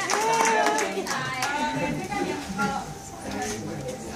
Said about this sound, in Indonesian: Siapa dulu pelatihnya, tepuk tangan dong.